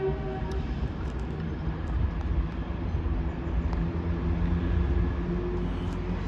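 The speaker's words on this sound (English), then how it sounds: "finally leaving is 1 Alpha 65 Grand Central service from Sunderland to everywhere" A Grand Central passenger train, diverted from Sunderland, pulling out of Lincoln Central station, a low steady diesel rumble building gradually at moderate distance with faint rail noise.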